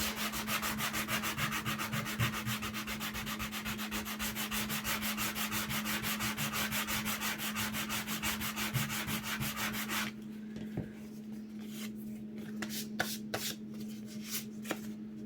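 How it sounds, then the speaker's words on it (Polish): Sanding block rubbing over dried stone effect paste in quick steady back-and-forth strokes for about ten seconds, close and scratchy, then a few lighter scattered rubs. "spróbujemy trochę ten przeszlifować"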